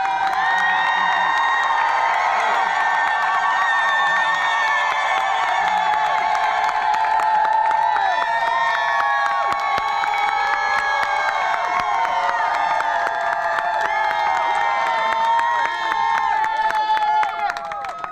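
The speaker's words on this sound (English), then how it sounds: "give yourselves a rousing round of applause so they can hear you inside" Outdoor rally crowd at the U.S. Supreme Court for housing rights, cheering, whooping and shouting continuously with clapping mixed in, a loud, sustained roar of many voices throughout.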